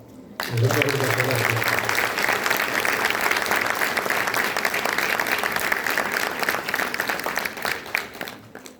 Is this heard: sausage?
no